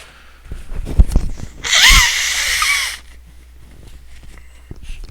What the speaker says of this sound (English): I'm sorry for sneezing